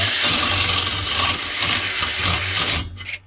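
A compact brushless drill bores holes through a tractor seat bracket, a steady high whine running for about three seconds close up before spinning down and stopping.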